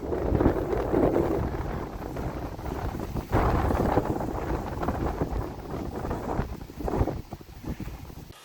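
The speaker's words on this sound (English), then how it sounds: "It's really windy though." Strong storm wind buffeting and roaring against the microphone outside a Nordisk Oppland 3 tent in continuous gusts, loud and close, with a low rumbling undertone and no talking.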